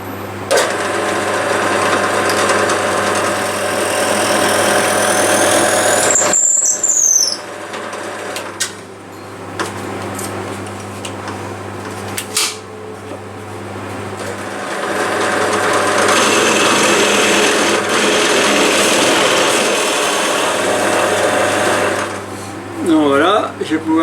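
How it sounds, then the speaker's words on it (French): A drill press boring into a cherry wood bedside shelf, a steady mechanical whir with gear-like ratcheting that runs loud through most of the stretch, pausing briefly in the middle before starting again. "maintenant je vais percer ici sur la perceuse à colonne"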